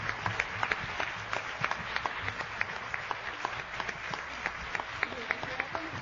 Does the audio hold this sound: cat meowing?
no